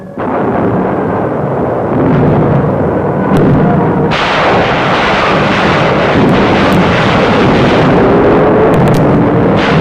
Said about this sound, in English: General Buckner, commander of the new U.S. 10th Army, observes the naval bombardment